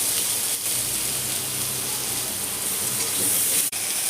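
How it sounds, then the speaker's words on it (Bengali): Tomato stirred into hot oil in a pan for a light Bengali rohu fish curry, a steady loud sizzle and hiss throughout with faint scraping, ending in a brief sharp knock. "টমেটোটা দিয়ে একটু নেড়ে নেবো, হালকা, বেশিক্ষণ নয়, কয়েক সেকেন্ড মতো।"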